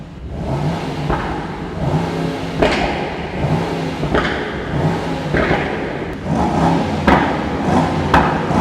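A 2023 Mercedes-AMG SL63 V8 revs up and falls back repeatedly over several seconds, a loud, deep engine note that rises and drops, with light clicks and thumps along the way.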